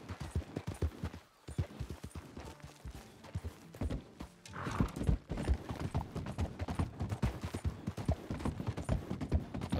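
Horse hooves clip-clop steadily in Red Dead Redemption 2 Online, a continuous near rhythm of hoofbeats with a brief pause and faint gunfire-like pops in the background.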